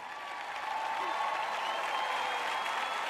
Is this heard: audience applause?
yes